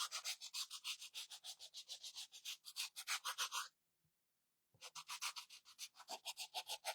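A gator sander works the edges of a wooden bee craft in quick rhythmic rasping strokes, close and clear, broken by a brief silent pause midway.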